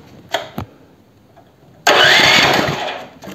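A 7 hp AliExpress engine fitted with a starter fires up: two short cranking bursts, a pause, then it catches and runs loud and steady at close range, without any voices.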